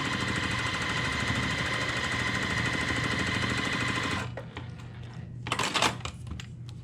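A sewing machine runs steadily while stitching a quilt block, a dense close whir that stops after about four seconds, followed by a brief quieter rattle of fabric handling.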